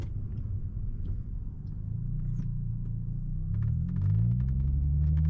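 Car engine with an automatic transmission revving and shifting up through first, second and third gear, a low steady rumble rising in pitch and loudness toward the end, heard alone from inside the car.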